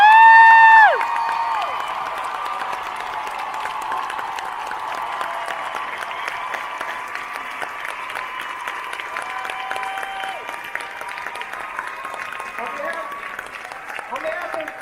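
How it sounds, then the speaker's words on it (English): A Comic-Con 2019 panel audience applauds and cheers the Supernatural cast in a long, steady roar of clapping and crowd noise, with a brief voice at the start and whoops rising through the wash. "please, round of applause for our cast"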